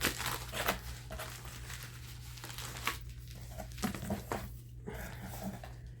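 A plastic bag from a spring subscription mystery box crinkles and rustles close by in irregular bursts, with soft handling noises and quiet gaps against a low steady hum.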